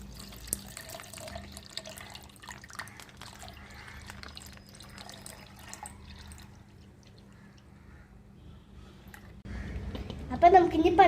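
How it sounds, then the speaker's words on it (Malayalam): Milk is poured into a blender jar while making dragon fruit juice, a soft, quiet liquid trickle with light splashing that fades out. A louder kitchen noise follows near the end. "അപ്പോൾ നമുക്കിനി പാല് ഇതിൻ്റെ അകത്തോട്ട് ഒഴിക്കാം."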